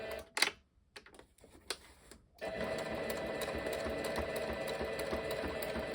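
A sewing machine stitching back over existing stitching on a scrappy needle pouch: a few quick clicks and short bursts, then a steady, continuous mechanical whir running close and unbroken.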